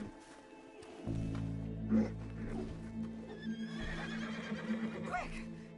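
In the video game Red Dead Redemption 2, a horse whinnies with a rising, wavering neigh near the end, under a low droning game background and some faint hoof clatter.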